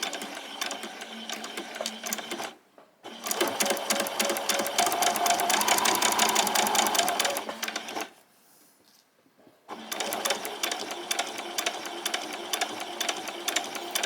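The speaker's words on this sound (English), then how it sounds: "Do a few back stitches." A sewing machine runs in steady bursts while stitching summer shorts and doing a few back stitches, with two brief pauses between runs; loud, close and without talk.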